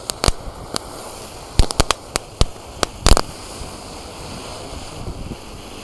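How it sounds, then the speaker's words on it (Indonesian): Small disco firecrackers pop in an irregular string of sharp bangs, with a quick cluster near the middle, over steady wind and surf-like background noise. "Ini ada mercon disco tapi yang nggak ada tornya guys. Kita nyalakan."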